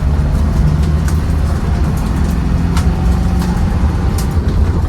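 A 1997 Land Rover Defender 90 with its 300Tdi diesel engine drives along a dusty road, a steady, loud low rumble of engine and road noise that continues without a break as it works up through the gears.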